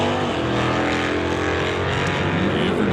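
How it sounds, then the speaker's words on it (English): An Oldsmobile drag racing car launches off the line at a drag strip, its engine a loud, dense roar with a steady, rising pitch across a few seconds. "you'll see that Oldsmobile leave the line first"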